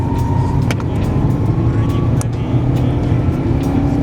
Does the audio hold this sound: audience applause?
no